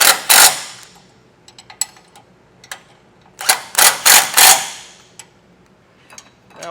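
Sharp ratcheting clicks from a wrench snugging base plate bolts at the former tow hook mounts on a 2024 GMC Canyon, arriving in short bursts and clusters with quiet gaps, close and fairly loud.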